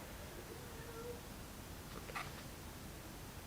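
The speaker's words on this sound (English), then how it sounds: "Is my cat screaming at my door?" A house cat cries out at a door, a faint, muffled meow or two rising briefly over a steady room hiss.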